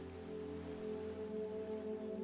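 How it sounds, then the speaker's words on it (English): Steady, soft video game rain patters continuously with a low, even hum beneath it, heard alone. "Rain sounds go away."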